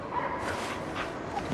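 Sled dogs bark and yip in the video game Cryostasis, a continuous, fairly loud mix of canine calls over a noisy background with no talking.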